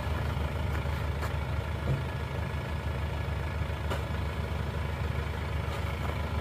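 Isuzu Panther diesel engine being revved during a compression check, a steady loud low rumble with faint rises, running alone without talk.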